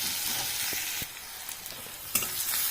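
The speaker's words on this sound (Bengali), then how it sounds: "এবারে আমি কুচিয়ে রাখা পেঁয়াজটা দিয়ে দেব। পেঁয়াজটাকেও আমি 1 থেকে 2 মিনিট ফ্রাই করে নেব।" Chopped onion frying in a pan for a Bengali okra dish with mustard and poppy seed paste, a steady close sizzle with a few stirring clicks and one sharper clatter near the end, no voices.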